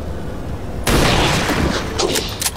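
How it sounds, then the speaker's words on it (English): A soldier fires a gunshot in the XCOM tactical video game: a sudden loud blast cuts through low background noise, followed by a rumbling tail and a few more sharp cracks. "let's go ahead and have Manny take a shot now that the cover is gone"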